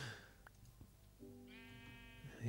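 Sheep bleating in Minecraft with the Feed The Beast modpack, one short, quiet, wavering bleat heard alone against faint background noise.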